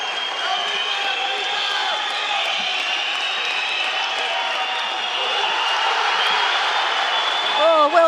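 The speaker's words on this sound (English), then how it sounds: "This crowd, every time the Georgian moves, the crowd just erupts. It's becoming absolutely deafening here." A judo contest crowd roars continuously at a Grand Prix in Tbilisi, a loud, deafening wall of cheering and whistles that swells near the end, with a commentator talking over it.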